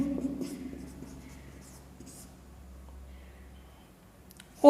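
Chalk or marker writing on a classroom board during a mathematics lesson, producing faint, quiet scratching strokes that continue steadily in a soft, near setting.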